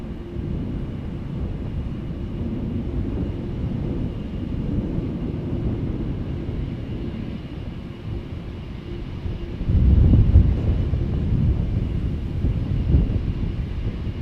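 A KLM airliner in the 'Orange Pride' livery departs Amsterdam Schiphol with a steady, broad low roar mixed with wind buffeting on the microphone. The roar swells louder partway through.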